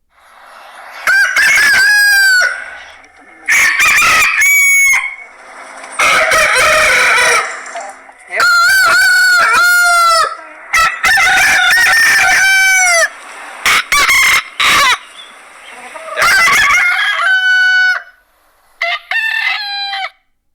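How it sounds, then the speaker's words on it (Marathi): Loud, close roosters crow again and again, several calls answering one another with short gaps between them. "एक कोंबडा आरवला, एक कोंबडा ओरडला की त्याच्या आवाजाला प्रतिसाद हा दिला जातो"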